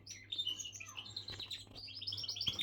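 Pet songbirds sing up close with rapid, high-pitched chirps, tweets and trills that run continuously in overlapping bursts.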